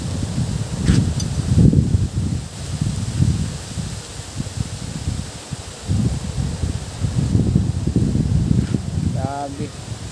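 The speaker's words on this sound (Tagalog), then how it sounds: "medyo malakas ng hangin" Strong typhoon wind gusting through trees, leaves rustling and roaring in repeated surges, heard up close with occasional faint voices in the background.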